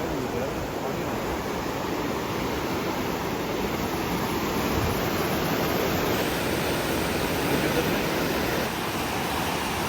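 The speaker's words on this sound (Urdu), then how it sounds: "اس تیز بہتے پانی کی آواز کو ضرور سنیے" Fast-flowing mountain water on a northern tour rushes in a dense, constant roar, loud and unbroken throughout with no voices.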